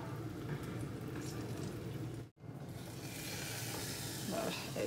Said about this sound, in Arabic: رح اقلي البطاطا